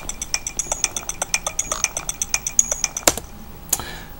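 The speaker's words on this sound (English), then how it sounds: "It's got a few different synths that are going through the Redrum unit," Redrum drum machine kit in Reason with several synths routed through it, playing a crisp, regular pattern of light ticking hits with a few sharper accents near the end, moderately quiet and without any voice.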